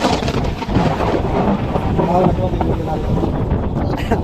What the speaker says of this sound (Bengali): তো বজ্রপাত হয়েছে প্রচুর